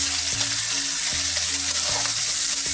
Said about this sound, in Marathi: कांदा चांगला आपल्याला गोल्डन ब्राऊन मस्त परतून घ्यायचा आहे. टमॅटो घालायचं आहे बारीक चिरलेलं.